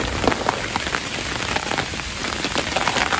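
Heavy rain pours down steadily beside a tench fishing lake, a dense close hiss of drops drumming on surfaces with no voices.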